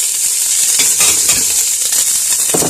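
Onions and celery cook in a pan with a bright, continuous sizzle and light stirring scrapes, close and fairly loud, with no voices.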